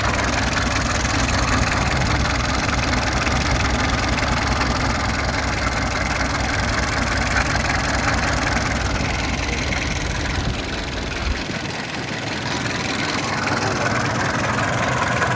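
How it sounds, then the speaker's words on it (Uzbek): A repaired Mazda car engine idles with a steady, close, rumbling drone, then drops away briefly near the end. "motor qismini ko'rsatamiz hozir. Motor remont bo'lgan. Akkumulyator toza akkumulyator. Mazda motori."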